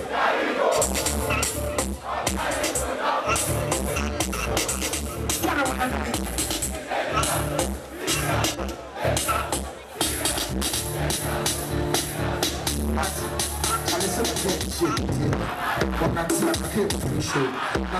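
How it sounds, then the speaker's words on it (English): A large charged crowd sings along loudly and continuously at a live performance during a music awards celebration jam, a dense wall of voices and music filling the whole stretch. "The charged crowd passionately sang along the performance."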